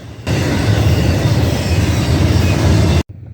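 A freight train rolls past close by on the railroad in Ohio, a loud continuous roar of wheels and cars that cuts off abruptly near the end.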